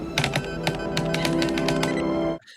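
Rapid, steady keyboard typing in a scene from the movie Under Siege 2, a dense clatter of close keystrokes running for about two seconds before cutting off abruptly.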